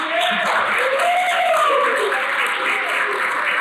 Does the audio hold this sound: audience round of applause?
yes